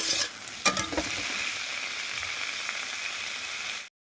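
Cauliflower and potato fry with onions in hot oil for aloo gobi, giving a steady, close sizzle. A few stirring scrapes sound near the start, and the sizzle runs on until it cuts off abruptly.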